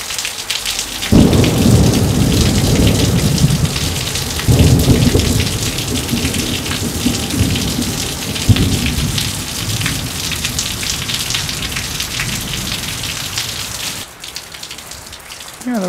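Heavy rain pours steadily through a thunderstorm, with deep rolling thunder surging at about one and four seconds and again near eight, a loud continuous wash that thins out toward the end.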